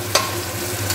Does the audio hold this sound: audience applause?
no